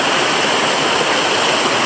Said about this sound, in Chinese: 有个瀑布仔喎